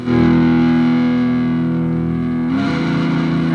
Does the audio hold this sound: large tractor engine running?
no